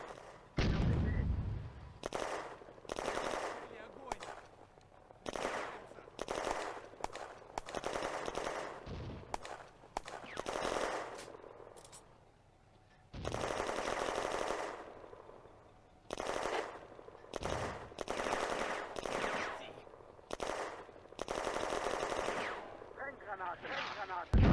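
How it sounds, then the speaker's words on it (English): Tanks and armoured vehicles fire heavy suppressing bursts in the WWII eastern-front game Firefight, with dense, repeated machine-gun rattles and booming cannon shots in irregular clusters, fairly loud, broken by short gaps. "The Panzers and armoured vehicles are putting down heavy suppressing fire"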